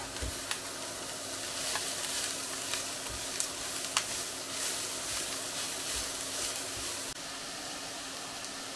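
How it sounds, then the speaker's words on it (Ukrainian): Cabbage stews and sizzles in a frying pan as filling for savoury pies, a steady soft crackling hiss with a few faint clicks of stirring throughout. "Та протушкуємо ще трішечки капусту."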